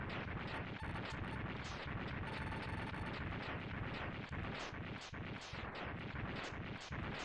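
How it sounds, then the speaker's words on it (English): Continuous booming explosions from a computer blowing up in the video game Mega Man X2, a loud, dense barrage of rapid blasts repeating for several seconds without pause. "And so the computer thingy explodes. All of the explosions."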